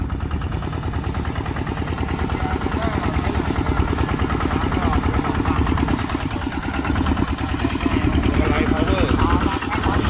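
A homemade Itaen grass-cutting farm vehicle's engine chugs steadily in reverse gear, a loud rhythmic putter close by, with someone talking over it.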